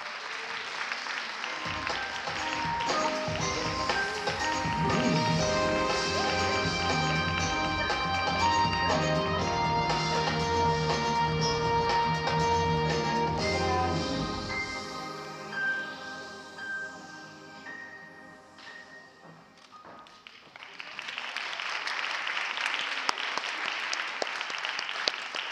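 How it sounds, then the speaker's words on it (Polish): Applause at a pole sport championship medal ceremony in Kielce: music plays loudly at first, then fades, and a burst of crowd clapping swells up near the end. "Wielkie brawa!"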